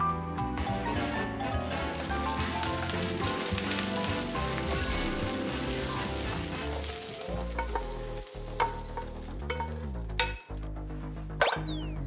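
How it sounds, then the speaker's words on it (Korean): Spaghetti with garlic pan-fries in hot oil, sizzling steadily and crackling, with a few sharp clinks and stirring knocks toward the end; no talking is heard. "튀기듯이 지지는구나."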